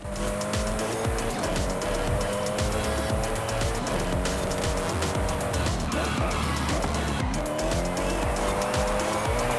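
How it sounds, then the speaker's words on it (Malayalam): Cars race and drift in the Forza Horizon racing game, with steady loud engine roar and tire squeal running throughout, under a continuous game soundtrack. "നമുക്ക് ഡ്രിഫ്റ്റ് അടിച്ച് എൻജിങ് ചെയ്യാം"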